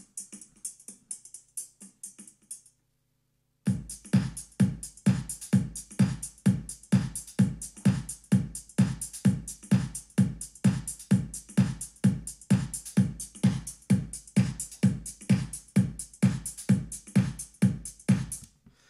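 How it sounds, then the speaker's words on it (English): An electronic drum rhythm section with kick, hi-hat and cymbals plays a steady, evenly spaced groove with punchy kicks and bright hats, after a brief quieter snippet and a short gap of silence. "if I play the whole thing, the whole rhythm section together, it'll sound like this."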